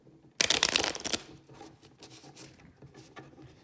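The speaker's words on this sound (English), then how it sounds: "I'm going to take these and shuffle them one more time." Card stock cards being shuffled for the GMT board game Spacecorp, one sharp riffle burst near the start followed by softer scattered card taps and shuffles, close and alone.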